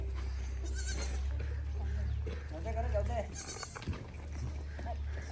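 Goats bleat in short wavering calls over a steady low rumble, with people talking nearby throughout.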